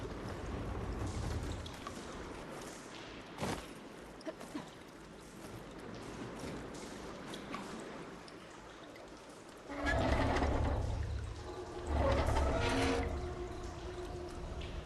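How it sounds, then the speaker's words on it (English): Water runs and trickles through pipes in Horizon Forbidden West, a soft background flow that swells into louder gushing bursts in the second half, with occasional sharp clicks between them. "Aloy, I can hear water in the room again."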